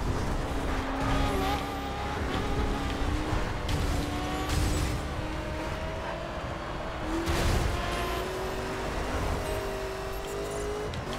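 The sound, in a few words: racing car engine and skidding in a racing video game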